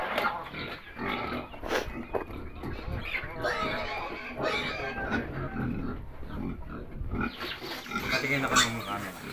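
Pigs that survived ASF grunt and oink continuously and loudly while being fed, up close, under steady talk from people in Filipino.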